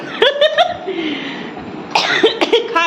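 A person coughs in a few short, harsh bursts close by, with a pause between them and some speech around the coughing.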